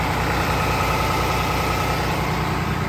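A Mercedes diesel engine idling in a 2007 Freightliner M2 knuckleboom truck, a steady, loud, even low rumble with a fine rhythmic chug that holds unchanged throughout, with no voices.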